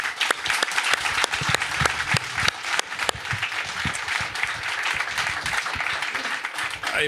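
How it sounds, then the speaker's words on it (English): An audience applauds an expert panel at a civic redevelopment event, with a steady round of clapping and some distinct nearby claps standing out from the crowd. "let's give them a round of applause."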